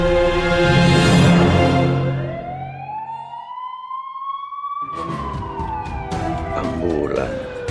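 An ambulance siren wails and rises in pitch, sustained and steady, while heavy rumbling and commotion fade out beneath it before a busy, noisy stretch returns.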